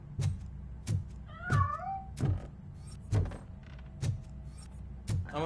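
A cat meows a couple of times in the RoboCop video game, a brief rising-and-falling cry heard between regular heavy thudding footsteps or knocks.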